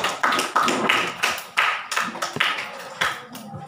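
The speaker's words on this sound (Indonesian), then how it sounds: "Oke, bagi tepukan lulus." A small group of students claps briefly for a classmate who passed a spelling test, several sharp uneven bursts of hand claps over a few seconds with no talking.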